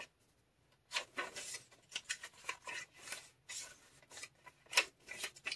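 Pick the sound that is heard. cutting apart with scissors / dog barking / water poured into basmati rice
cutting apart with scissors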